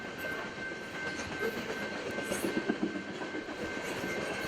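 Coal train rolling past on railroad tracks at Marvin Road, a steady loud rumble with clattering wheels and a faint rhythmic clickety-clack throughout.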